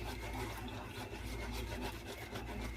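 Whisk scraping and rubbing rhythmically in a bowl as cornstarch is whisked into cold milk for a chocolate chip pie filling, a quick repeated swishing heard close up with no speech.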